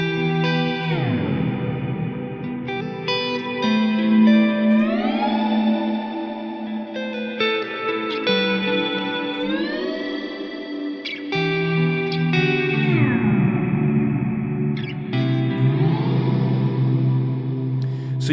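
A Strymon NightSky reverb pedal with its sequencer running and the glide turned down produces a dense, shimmering ambient wash whose pitches step and slide gently between notes, sustaining continuously for the whole stretch without any voices.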